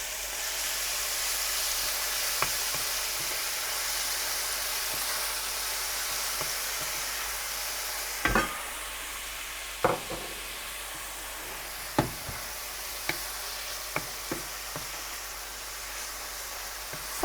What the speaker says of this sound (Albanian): Fillojmë me skuqjen e qepës.